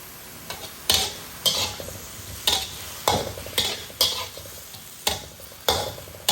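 A spatula scrapes and tosses snapper with ginger and vegetables in a hot sizzling pan, with about a dozen sharp, rhythmic stirring strokes roughly every half second under a constant hiss.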